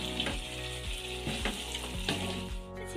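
Curry leaves drop into chicken frying in a pan, raising a loud close sizzle and spitting crackle punctuated by several stirring scrapes at a slow, uneven rhythm, with no voices.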